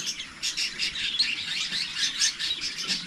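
Newly hatched chicks peep continuously in a dense, high-pitched chorus of overlapping chirps, close by and steady throughout with no talking.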